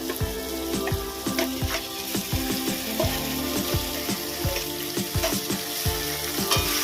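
Fish head frying in hot oil in a pan for a Bengali muri ghonto, a steady close sizzle broken by repeated stirring scrapes and knocks, no voices.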